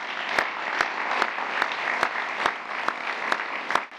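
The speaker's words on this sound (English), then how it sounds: "Applause." An audience at a Trump speech applauds steadily in a dense, even wash of clapping, with a few sharper claps standing out at regular intervals throughout.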